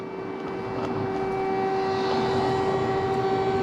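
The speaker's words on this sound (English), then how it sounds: "you can hear the air raid alarm outside." Air raid siren wailing outdoors in Dnipro, Ukraine, a steady sustained tone heard from a distance through a window, continuous throughout with no voices.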